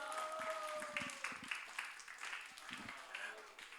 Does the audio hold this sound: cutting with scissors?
no